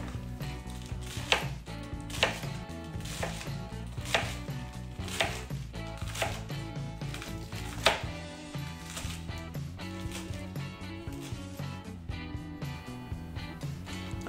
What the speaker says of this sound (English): I like to cut the romaine lettuce in about 1 centimeter pieces.